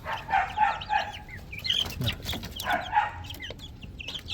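Month-old Rhode Island Red chicks in a crowded coop give close, repeated high cheeping calls in bursts, with some lower clucking and scuffling between them.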